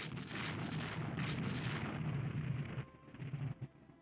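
Torpedo striking a warship in the naval strategy game Rule the Waves II, a loud rumbling explosion that roars for a few seconds and then breaks into smaller thuds as it fades.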